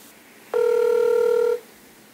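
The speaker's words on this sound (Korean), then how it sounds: "그는 끝내 전화를 받지 않았습니다" A single telephone ring tone sounds for about a second, a steady electronic beep that stops abruptly and goes unanswered, with quiet room noise before and after.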